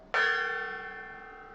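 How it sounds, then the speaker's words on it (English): A gong struck once in a workshop, a sharp bright onset followed by a long ringing tone that slowly decays, alone with no voices. "Banging that gong."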